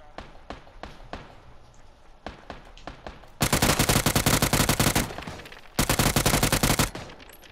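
Gunfire in the battle royale game PUBG: scattered single shots, then two dense bursts of rapid automatic fire cracking close and loud, with no talk over them.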